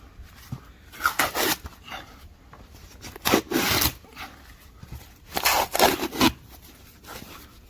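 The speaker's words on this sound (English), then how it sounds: "I'm going to sand this down anyway." Sanding a boat bottom during a refit produces rhythmic abrasive rasping strokes in loud bursts of about a second each, separated by quieter pauses.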